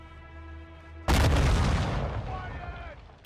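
A detonated charge explodes in Call of Duty: Modern Warfare II: one sudden, loud, close boom cuts through a quiet hum and leaves a rumbling tail that fades over about two seconds.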